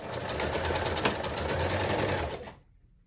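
A sewing machine runs a top stitch on an envelope pillow cover, giving a steady, close mechanical whirring with a fast regular rhythm that stops abruptly near the end.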